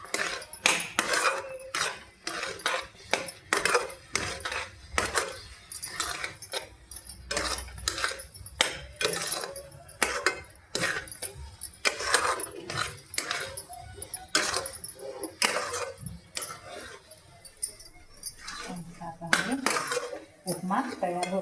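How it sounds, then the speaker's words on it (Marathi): A metal utensil stirring aloo matar paneer upma in a pan, with repeated scraping and clinking strokes in an irregular rhythm, close and fairly crisp, with occasional soft talk in the background. "त्याला एकदम असं मस्त चाळत राहा, कारण की त्याच्यामध्ये गाठ पडायला नको"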